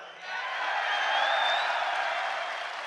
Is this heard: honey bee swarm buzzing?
no